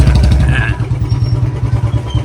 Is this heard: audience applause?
no